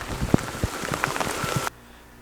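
Heavy rain pattering steadily outside onto flooded ground on a farm in spring, a dense wash of drops with a few louder splashes, cutting off abruptly near the end.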